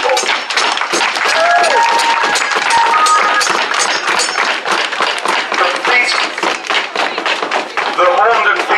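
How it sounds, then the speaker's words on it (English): A crowd at the Horndon Feast and Fayre, a traditional annual village fair in Thurrock, gives a loud, dense round of applause that carries on for several seconds, with voices and cheers mixed into the sustained clapping. "give them a huge round of applause to everyone who has made today possible"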